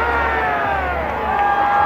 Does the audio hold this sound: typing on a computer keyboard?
no